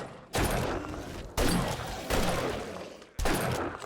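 Rifle gunfire in the survival game 7 Days To Die: four loud, close shots at uneven intervals, each a sharp blast trailing off into a noisy decay before the next.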